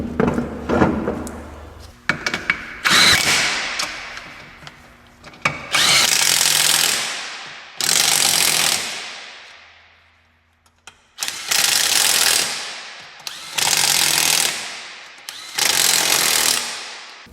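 An AC Delco ARI2023 cordless half-inch impact wrench runs close by in loud hammering bursts, with several long runs that wind down, then a row of shorter, evenly spaced bursts separated by brief silences.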